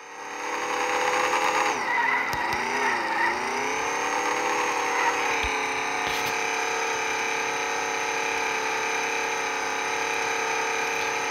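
Land Rover pulling a wheelie, its engine droning steadily with a high straining whine that bends and wavers early on, then holds a loud, sustained tone with faint knocks.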